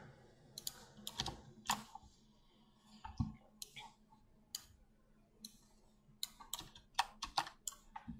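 Quiet typing on a computer keyboard, with irregular clusters of soft key clicks and taps spread across several seconds over a faint steady hum.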